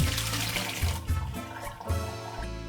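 Boiled bamboo shoots being drained, water pouring and splashing steadily with a few louder gushes, close and continuous.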